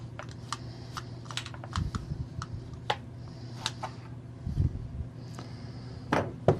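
Small metallic clicks and taps as Allen-head screws (#3) are removed from the housing of a failed Milwaukee Sawzall, scattered and close over a steady low hum.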